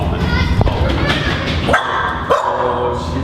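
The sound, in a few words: dog barking on a ferry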